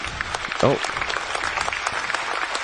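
Studio audience applause on a talk show, a dense, steady wash of clapping throughout with a brief voice cutting in near the start.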